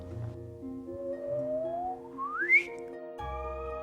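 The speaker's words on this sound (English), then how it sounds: "Take neutron stars in the act of merging. They make this wonderful chirp." A merging pair of neutron stars' gravitational-wave chirp rendered as sound: a single whistle-like tone sweeping steadily upward in pitch over a few seconds to a sharp peak, then cutting off, heard over a sustained musical drone.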